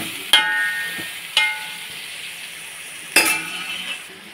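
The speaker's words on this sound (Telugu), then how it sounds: "ఇప్పుడు మనం మ్యాగ్నేట్ చేసుకుని పెట్టుకున్నటువంటి చికెన్ దీనిలో వేసుకోవాలి ఫ్రెండ్స్. ఇలా వేసుకున్నాక మొత్తం కలపాలి" Marinated chicken frying in a pan for gongura chicken fry is stirred with a utensil, giving three sharp clinks against the pan over a steady sizzle, close and alone without talk.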